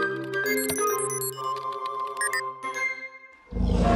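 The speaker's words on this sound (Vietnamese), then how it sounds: "Tiếng này nghe như khủng long vậy." A synthetic, warbling electronic roar with shifting tones, ending in a sudden loud low rumble burst; no speech.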